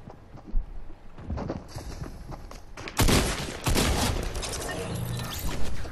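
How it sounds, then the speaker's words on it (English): Bursts of gunfire in the Fortnite video game, rapid loud shots clustered in volleys that grow denser toward the end, with no speech over them. "People are shooting at me."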